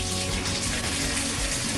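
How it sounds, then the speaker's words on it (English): Water pours steadily from a bathtub faucet in a house, a constant close gushing hiss that fills the room with no talk over it. "So you can see the water flowing out of the faucet in the tub."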